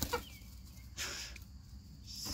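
Chickens clucking and squawking in short bursts over steady farmyard background noise, moderately near.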